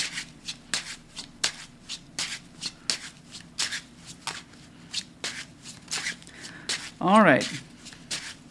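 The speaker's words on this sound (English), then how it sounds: "I shuffle up these cards like you wouldn't believe" Rapid, crisp riffling of tarot cards being shuffled in repeated bursts, near and steady, with a brief spoken word near the end.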